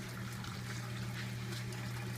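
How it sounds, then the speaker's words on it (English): Water rushes steadily into the media tanks of a radial flow filter on a goldfish pond, a continuous close wash of flowing and filling with no talking. "it's filling the media tanks up again, and here pretty soon you're going to see the water come out"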